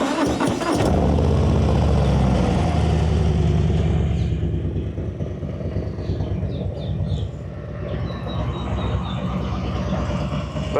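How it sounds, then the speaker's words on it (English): A 2024 Harley-Davidson Fat Boy 114 motorcycle starts with a loud crank and catch, then settles into a deep, steady, throbbing idle that stays close and strong for the rest of the clip. "let's start up this bike real quick."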